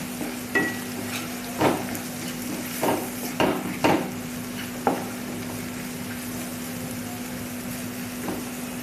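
A spoon stirs chili powder, garam masala and salt together in a frying pan for a cauliflower and pea bhaji, making scattered scraping knocks over a low steady sizzle, with no voices.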